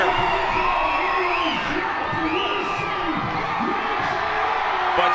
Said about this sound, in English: That's a loud cheer.